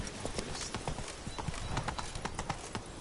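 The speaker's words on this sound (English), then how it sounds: "Whoa there, Roach." Steady clip-clop of Roach, Geralt's horse, trotting in The Witcher 3 on PS4, a brisk, even rhythm of hoofbeats up close and loud throughout, with no talking over it.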